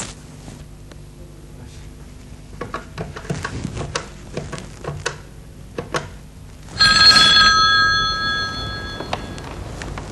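A telephone starts ringing partway through after a stretch of low background noise and faint movement, its bright electronic ring sounding close by and steady for several seconds.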